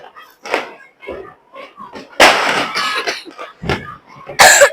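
A person with a cold from winter weather coughs several times, harsh bursts close by, on a New Year's night outdoors with sky lanterns and firecrackers going off around, with other scattered noises and thumps between them.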